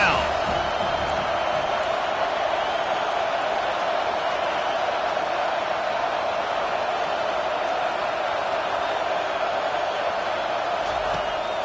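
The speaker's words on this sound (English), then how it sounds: "Here comes this home crowd as the defense tries to get off the field on third down" Home football crowd at a college game between Penn State and an SEC opponent, a steady loud roar of cheering and noise sustained throughout as the defense faces third down.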